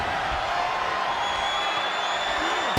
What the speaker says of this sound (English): this crowd is on their feet in full appreciation